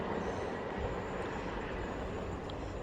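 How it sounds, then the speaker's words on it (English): A train approaches along the edge of a railway platform, heard as a steady, broad low rumble of wheels and rolling stock that holds evenly throughout with no voices. "On the edge of platform 1, the approaching train is not scheduled."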